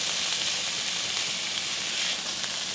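A meat sauce in a pan sizzles as it is mixed, giving a loud, steady frying hiss throughout with no break and no talking.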